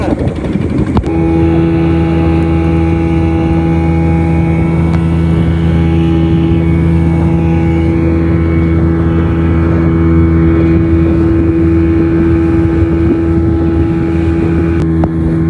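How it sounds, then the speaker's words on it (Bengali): A speedboat near Maheshkhali island in Bangladesh, being towed by another speedboat, gives a loud, steady engine drone with a constant tonal hum and wind noise on the microphone throughout. "তো যার কারণে আর একটার সাথে বেঁধে নিয়ে যাওয়া হচ্ছে।"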